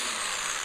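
A Glastar drill bit grinds into stained glass with a brief, steady, faint high whine that holds evenly throughout.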